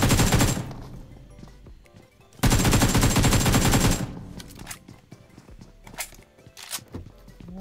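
Gunfire in PUBG Mobile: two long, loud bursts of rapid automatic shots close by, separated by quieter stretches of scattered clicks, thuds and footsteps.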